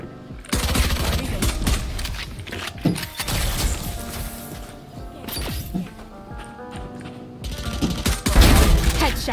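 Rapid automatic gunfire from a video game shooter rattles in dense, loud bursts with short pauses, some crashing impacts mixed in, while players talk over the shooting.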